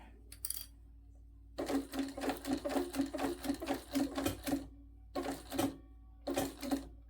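A sewing machine stitching a bag runs in three bursts of rapid, rhythmic mechanical chatter, the longest in the middle, separated by pauses, with a short click near the start.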